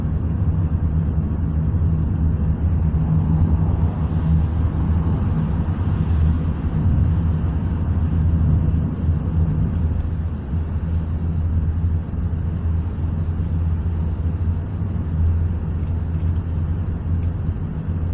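A car drives along a road in early-morning darkness, the interior filled with a steady, loud low engine and road rumble that continues unbroken throughout.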